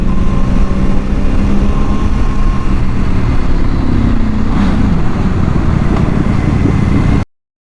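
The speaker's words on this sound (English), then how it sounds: "Can you hear the V4 engine roar?" A loud, steady Streetfighter V4 motorcycle engine roar with a low rumbling drone throughout, rising slightly midway as the bike revs, then cutting off abruptly.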